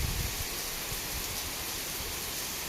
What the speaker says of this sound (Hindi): इतनी एकदम से आई ना, 1 सेकंड में खतरनाक वाली बारिश